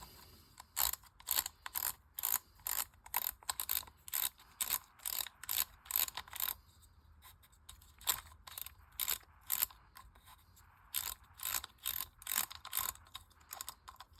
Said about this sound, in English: I'm going to start off by taking off the spool.